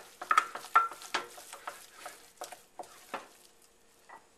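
Pâte à choux dough being stirred in a pot, a series of soft, wet slaps and scrapes in an uneven rhythm, close and fairly quiet, with no talking.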